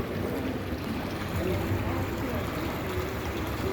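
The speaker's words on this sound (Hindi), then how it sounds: "ये नानक झीरा से पानी आ रहा है।" Spring water flows from the hillside at Nanak Jhira in Bidar with a constant, close rushing murmur, and faint voices sit underneath.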